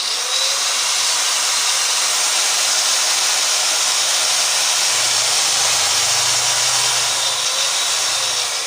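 A DCA 08-100 angle grinder, freshly repaired with a new armature, runs continuously with a loud, steady, even whine and no load, heard close up and alone for the whole stretch.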